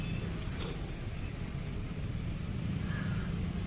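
Congested city traffic in Gorakhpur surrounds the listener with a dense, steady rumble of engines and road noise, a faint horn-like tone rising briefly near the end.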